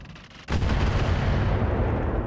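Thumper artillery and turret fire in RogueTech, a sudden loud blast that breaks in after a quieter stretch and holds as a dense, sustained barrage of booming gunfire.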